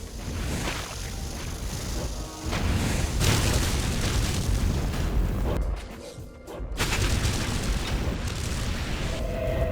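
Fire attack explosions in the Torchlight action game, a dense, continuous barrage of booming blasts and crackling fire effects that stays loud throughout, briefly dipping before surging again.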